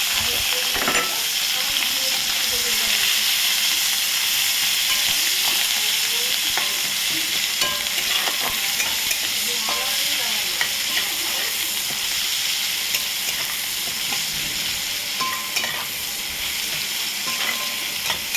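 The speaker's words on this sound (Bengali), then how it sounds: "পেঁয়াজটা ভাজা ভাজা করে নিই, পেঁয়াজ আর টমেটোটা।" Onion and tomato fry and get stirred in a pan for a fish curry, giving a steady close sizzle with scraping utensil strokes throughout and no talking.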